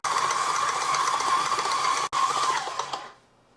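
A stand mixer kneads soft bread dough for fluffy toast bread, giving a steady, loud mechanical whir with a brief dropout near the end before the motor winds down and fades to silence.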